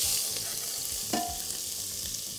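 Minced onion hits a hot pan and sizzles steadily with a close, bright hiss; a single clatter of the pan or spoon sounds midway, and there is no talk.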